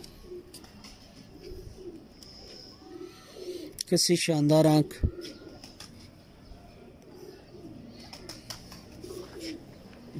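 Hino pigeons cooing softly in a loft, low repeated coos throughout with a brief louder burst of calls near the middle, while someone talks over them.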